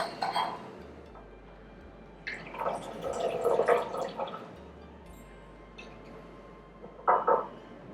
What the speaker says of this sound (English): Pour this back and forth, kind of cool it down.